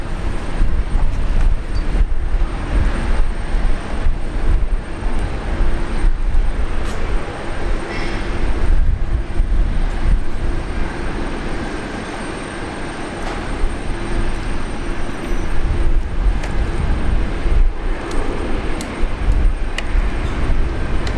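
A jet airliner taking off at Brisbane Airport: a loud, continuous low engine roar with broadband rumble that swells and holds steady, heard from nearby without voices.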